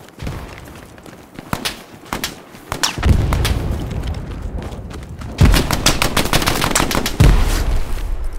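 In the Hell Let Loose war game, frag grenade explosions hit as heavy, deep booms, with three blasts spaced a couple of seconds apart. Rapid gunfire crackles around them throughout.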